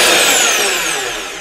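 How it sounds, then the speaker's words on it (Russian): A Zubr ZP-32-1100K SDS-plus rotary hammer runs in drill-only mode with no hammer action, giving a loud, steady close-up motor whine that eases slightly as it winds down. "Режим сверления без удара."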